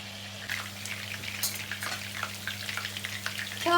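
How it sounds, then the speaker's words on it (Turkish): Steady, close sizzling of chicken meatballs frying in hot oil, with scattered crackles and pops throughout and no talking. "Bu taraftan da kızartıyoruz."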